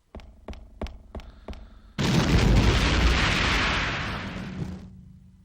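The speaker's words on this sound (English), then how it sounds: "Bomb." A bomb blast in the Sega Dreamcast game Carrier, set aboard an aircraft carrier: a few sharp rhythmic clicks, then a sudden loud roaring explosion that rumbles on for about three seconds before cutting off.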